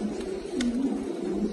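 French meat pigeon squabs coo in a low, rolling murmur that carries on steadily, close to the microphone, and one brief sharp sound cuts in partway through.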